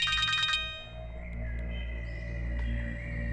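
A telephone ringtone plays as a short burst of bright, repeated electronic tones, then cuts off abruptly, leaving a faint tonal hum in a quiet indoor scene.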